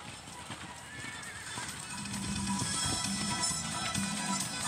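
Horse hooves clip-clopping in steady rhythm during a riding session, close and moderately loud, with a faint whinny and a voice talking over the hoofbeats.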